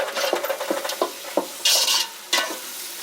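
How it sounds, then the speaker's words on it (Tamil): Chopped tomatoes, 200 grams, sautéing for chicken biryani, with repeated scraping stirs of a spatula in the pan and bursts of loud sizzling as they cook; no talking. "இப்போ நம்ம வந்து கட் பண்ணின தக்காளி 200 கிராம் சேர்த்து நன்கு வதக்கிடலாம்"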